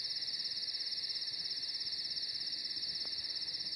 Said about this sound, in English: I'll get rid of the crickets